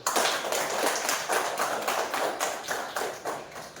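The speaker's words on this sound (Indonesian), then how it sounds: "Mungkin bisa kita kasih aplaus atau tepuk tangan untuk diri sendiri dulu" Classroom students clapping for themselves, a lively round of applause with rhythmic bursts of claps repeating steadily throughout, fairly close and loud, with no voices over it.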